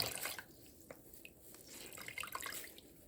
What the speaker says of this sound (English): Just like squeeze that water out of there.